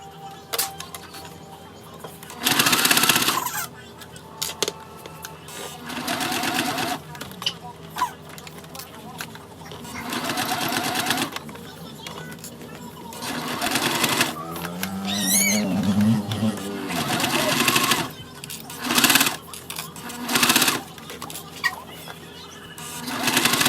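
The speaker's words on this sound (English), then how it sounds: "stitch that all the way down into place." A sewing machine stitches a circle bear bag in several short rattling bursts of varying length, separated by pauses with quieter handling noises, close and fairly loud.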